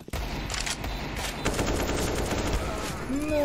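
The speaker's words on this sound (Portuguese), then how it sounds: "o cara ficou atirando pela smoke, aí dá pra ver, mano, da onde vem os tiros." Rapid gunfire from a Counter-Strike match on the Ancient map, shots fired through a smoke grenade in a pro esports game; a dense, continuous volley of loud bursts fills the whole span with little pause.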